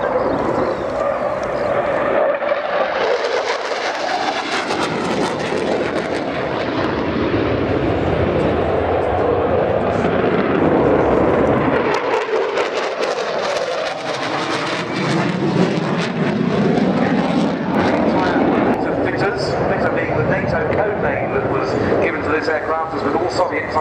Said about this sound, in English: Two aircraft positioning now and coming in for simulated dive attacks.